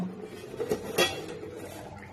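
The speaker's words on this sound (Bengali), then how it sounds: "এবার আমি ঢাকাটা খুলব" A metal lid comes off a cooking pot holding paneer, making a few soft clinks and a brief scraping clatter close by in a quiet kitchen.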